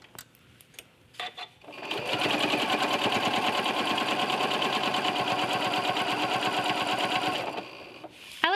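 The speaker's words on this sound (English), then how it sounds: "I'm going to take it slow and machine bind it from the back of my quilt." A sewing machine runs steadily for several seconds, stitching slowly to machine-bind a quilt from the back, starting after a few light clicks and stopping near the end.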